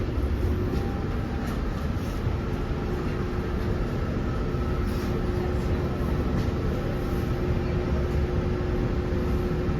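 Steady broadband rumble and rattle from inside Long Island Rail Road railcar 9866 while riding, continuous and fairly loud throughout with no talking.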